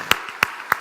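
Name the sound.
church congregation applauding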